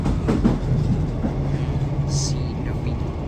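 Class 150 diesel multiple unit running on unelectrified valley lines, a steady low engine drone and rolling rumble from inside the carriage, with faint rail clatter throughout.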